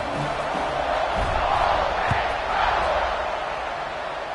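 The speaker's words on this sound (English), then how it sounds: "this crowd is buzzing after that last score" A college football video game crowd roars after a score, Ole Miss against Texas Tech, a loud steady stadium rumble with faint calls and a brief thump partway through.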